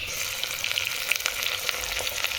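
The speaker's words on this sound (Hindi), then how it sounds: "अब इसमें मैं डाल दूँगी गोश्त," Mutton for a loki gosht curry hits a hot pan, giving a steady, close crackling sizzle with scattered pops throughout and no voices.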